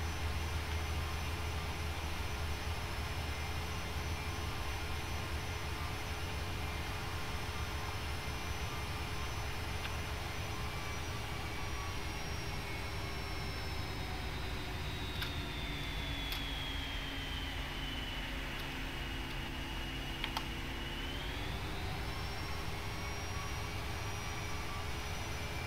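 Boeing 757 jet engines in Flight Simulator X hold a steady, even whine and rumble, with the pitch sliding lower and then climbing back near the end, heard alone without talk.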